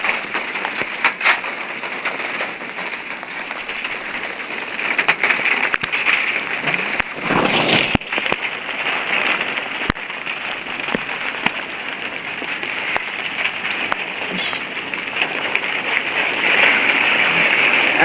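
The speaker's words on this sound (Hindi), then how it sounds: "सुबह सुबह का टाइम है और बारिश होने लगी है" Early-morning rain falls steadily outside a home, a dense continuous hiss of drops spattering on surfaces, loud and close throughout with a brief heavier rush midway.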